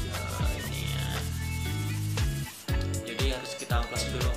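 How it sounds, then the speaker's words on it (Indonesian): An air rifle bolt part is sanded by hand with sandpaper in quick scraping rubs, close and fairly loud, under someone talking and background music. "jadi harus kita amplas dulu."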